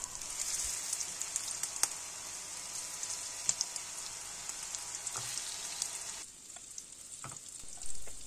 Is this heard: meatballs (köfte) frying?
yes